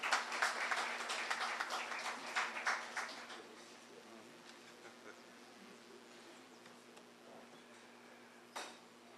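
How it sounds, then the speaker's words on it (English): Ceremony audience applauding to welcome a speaker at a walk-in health service opening, a soft, distant patter of many hands that thins and fades after a few seconds, followed by quiet room tone and one late clap. "Could we welcome him with a round of applause, please?"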